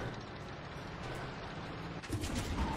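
Rapid gunfire crackles through a dense, continuous barrage at a tank in the video game Far Cry 6, heavier thuds landing near the end, with no talk over it.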